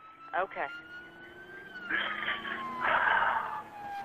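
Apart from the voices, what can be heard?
police sirens approaching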